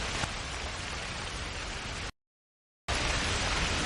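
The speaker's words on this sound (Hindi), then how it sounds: "बारिश और बिजली बहुत तेज है।" Dense, steady rain hisses loudly, briefly cutting to total silence for under a second before resuming.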